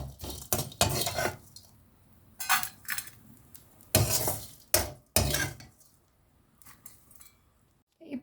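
A spoon scrapes and clinks in a pan while fried dried prawns are scooped into a bowl, giving irregular metallic knocks and scrapes with short pauses between them.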